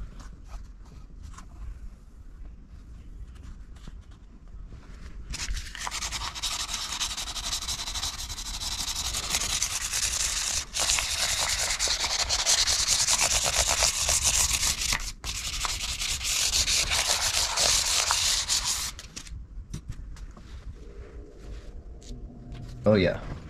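Steady rubbing scrape of sandpaper worked over the wooden fretboard of an IYV ILS 300 Les Paul copy guitar, close and continuous for about fifteen seconds, quieter handling before and after.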